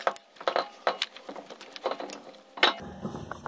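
A bolt being fitted by hand into the brake caliper of a 2002 Lexus RX300, heard as a series of close, irregular metallic clicks and taps with small rattles, faint and without voices.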